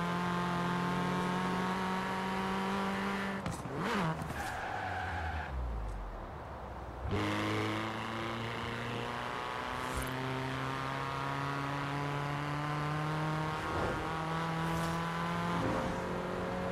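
Car engine accelerating and revving in a driving video game, with tones that climb and fall through gear changes and a brief skid partway, loud and continuous at close range, with no talking.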